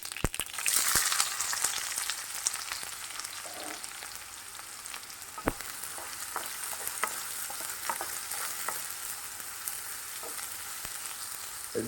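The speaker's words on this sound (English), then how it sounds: "Let this saute for a while." Onion sautéing in hot oil with crackled mustard seeds and broken dry chilies for a Goan cluster bean and potato dish, a continuous close sizzle with occasional sharp pops and spoon scrapes.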